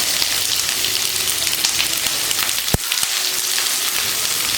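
A pan of onion, carrot and beans sautés with a constant, even hiss, broken once midway by a single sharp knock of a spoon against the pan.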